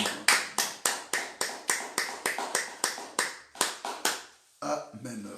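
A church congregation at a midday prayer service claps in a steady rhythm, about fifteen sharp, close claps in a row, then pauses before voices come in.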